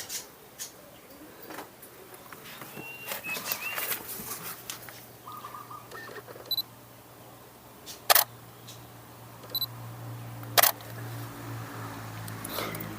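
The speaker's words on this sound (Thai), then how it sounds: "ก่อนที่จะชิมเดี๋ยวขออนุญาต ถ่ายรูปเก็บไว้ก่อน" A camera's shutter clicks several times while photographing the first ripe Bordissot Rossa fig, sharp isolated snaps spaced a second or two apart over a quiet outdoor background with faint birdsong.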